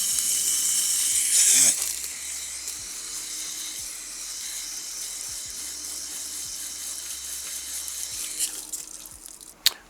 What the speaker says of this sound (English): Let's give it a water.